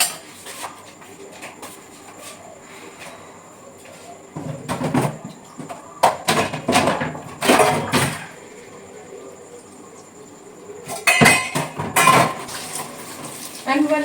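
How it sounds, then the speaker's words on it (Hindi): Dishes being washed and scrubbed by hand, with pots, pans and cutlery clattering and clinking in irregular bursts over a quiet background hum. "अब मैं बर्तन धोऊंगी"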